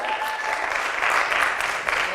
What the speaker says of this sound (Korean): 우리 하나님께 감사 박수